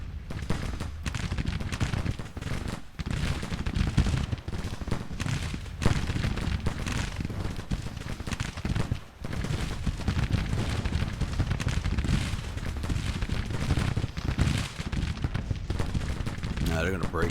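Sustained gunfire fills a Civil War battle in a video game: dense, continuous crackling musket volleys with repeated sharp reports and low rumbling booms, loud and unbroken from start to finish.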